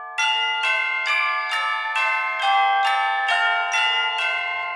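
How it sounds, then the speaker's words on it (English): Tubular bells layered with celesta ring out a Christmas melody, about nine evenly spaced bright metallic strikes, each sustaining and overlapping the next, clear and close with no voices. "the tubular bell works great"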